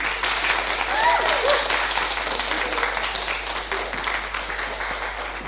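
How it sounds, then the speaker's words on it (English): An audience applauds a speaker at a talk on the mind and psyche, a dense, even wash of clapping held steady for several seconds, with faint voices and a brief whistle or cheer mixed into the crowd. "I'd like you please to give him a big round of applause for Jaguar"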